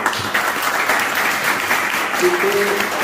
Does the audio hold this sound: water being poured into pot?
no